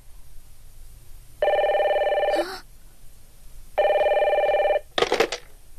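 An old-style telephone bell rings in two bursts of about a second each, with a short clatter after each ring, fairly close over a quiet indoor background.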